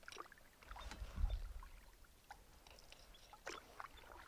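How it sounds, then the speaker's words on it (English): Canoe paddle strokes dip and splash on a lake, soft and close, with a few quiet watery swishes and drips spaced across the moment and no voices. "I've found paddling this canoe is slower than the pack raft"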